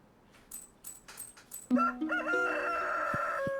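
A rooster crows loudly in the Stardew Valley video game, a long cock-a-doodle-doo call after a few short light game blips.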